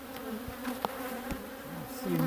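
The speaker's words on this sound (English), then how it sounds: "A lot of bees in here." Honeybees buzzing steadily in an open hive during a spring inspection of a walk-away split, a close, continuous droning hum with a few faint knocks and no talking.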